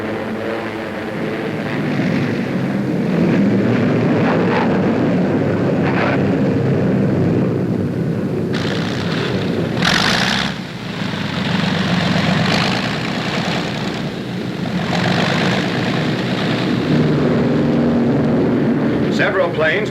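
Steady, loud drone of WWII British carrier aircraft engines returning from a strike on Manila Harbor in 1945, continuous throughout with narration over it.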